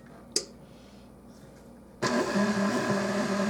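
An electric mixer starts up and whirs steadily, beating butter into soda bread dough after a quiet stretch with a single sharp click.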